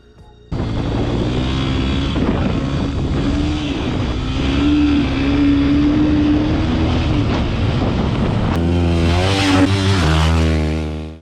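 A Beta RR 125 4T enduro motorcycle engine revs and drones steadily at close range on a dirt track, pitch rising and falling as it rides, then climbs sharply in a loud rev near the end.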